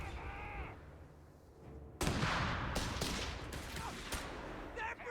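Battle in Company of Heroes 3: mortar and gunfire erupt suddenly after a quiet stretch, with sharp repeated shots and bursts ringing loudly over continuous rumbling, preceded by faint background sound.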